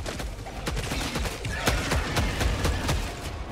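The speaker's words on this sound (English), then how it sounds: "Firing orbital barrage" An orbital barrage strike in Helldivers 2 pounds down as a rapid series of loud explosive impacts, with sharp blasts a fraction of a second apart over rumbling gunfire.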